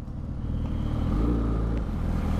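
A Suzuki Hayabusa motorcycle engine idles and rumbles steadily in traffic, a close, continuous low drone with a slight swell partway through and no voices.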